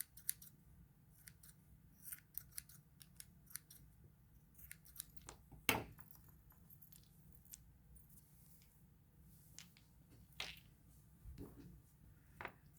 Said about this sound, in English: I think I'll trim these bottoms just a little bit.